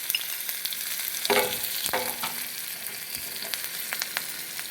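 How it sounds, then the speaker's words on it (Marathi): Cumin seeds and finely chopped green chilli crackle in hot oil for a tempering. A constant close sizzle is broken by a few sharper pops and spits, with no speech. "मी इथे फोडणीला जिरे घालून घेते"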